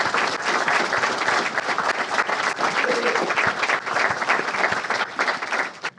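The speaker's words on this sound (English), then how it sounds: "So let's give Mollie another round of applause." Warm audience applause at a panel event on the Kavanaugh confirmation and the Supreme Court, dense, sustained clapping from a large crowd at fairly close range that tapers off abruptly at the end.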